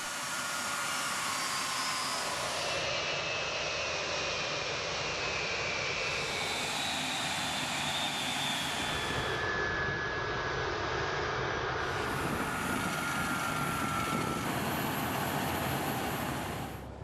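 Steady, loud roar of a C-17 Globemaster cargo plane's jet engines, a continuous broadband rumble with a high whine layered on top, holding constant throughout.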